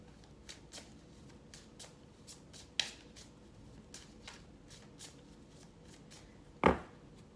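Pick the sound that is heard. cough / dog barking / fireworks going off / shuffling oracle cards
shuffling oracle cards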